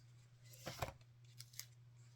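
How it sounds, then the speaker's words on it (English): A pair of scissors from a sewing notions tote being handled, a couple of faint metallic clicks and snips close by over quiet room hum. "I think these were a pair of scissors."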